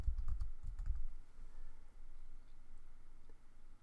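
A few quick keystrokes click on a computer keyboard near the start, then a faint, quiet room hum with scattered soft taps.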